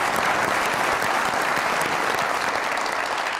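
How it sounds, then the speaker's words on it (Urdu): Steady studio audience applause on a Pakistani comedy talk show, an even, dense clapping that holds at a constant level throughout without any voices. "بہت ساری تالیاں میڈم کے لیے"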